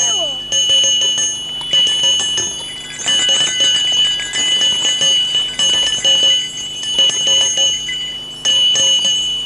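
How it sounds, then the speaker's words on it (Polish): Several bells are struck lightly in turn, including a metal mortar held on the palm and tapped like a bell, giving bright ringing tones with overlapping decays in an irregular rhythm, loud and close. "to jest taka orkiestra z samych dzwonów"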